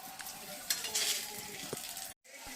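A hot pan sizzles while doi begun, eggplant in a yogurt, mustard, poppy seed and green chilli sauce, is being cooked. The steady, moderately loud frying hiss is broken by a few stirring clinks and a brief drop to silence near the end.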